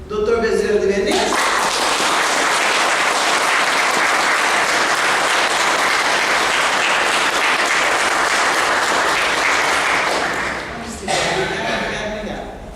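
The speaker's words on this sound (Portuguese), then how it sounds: "E vamos aplaudir Dr. Bezerra de Menezes." An audience at a spiritist lecture on the medicine of Jesus breaks into sustained, loud applause that fills nearly the whole stretch, then fades as a voice resumes speaking near the end.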